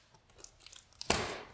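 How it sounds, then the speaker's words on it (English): Packing tape on a box for a new shop is cut: a few soft rustles and clicks, then one sharp, loud rip-like slice near the end, close by, with no voices. "Oh, I guess I can cut the tape."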